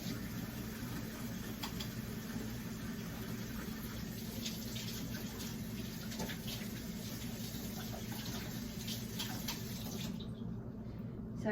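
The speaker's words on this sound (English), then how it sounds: "I had to wash this tong a bit" Kitchen tongs are rinsed under a running tap, a soft steady stream with faint clinks and splashes, fairly quiet and continuous, cutting off near the end.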